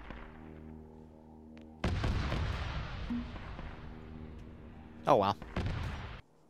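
Heavy bolter fire in the military sim Arma 3, booming bursts of heavy gunfire that build into dense rumbling volleys with a loud sharp peak near the end, with someone speaking briefly over it.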